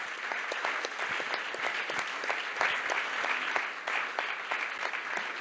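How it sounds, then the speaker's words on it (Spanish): A crowd at a book presentation with the Madres de Plaza de Mayo claps steadily throughout, a moderately distant wash of many hands with crisp individual claps standing out. "Fuerte el aplauso para ellos."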